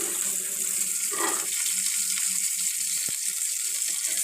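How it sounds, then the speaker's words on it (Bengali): Fish frying in a pan gives a steady, loud, close sizzle that hisses continuously with no pauses and no talking. "আমার মাছ ভাজি প্রায় হওয়ার পথে, দেখতে পাচ্ছেন হয়ে গেছে।"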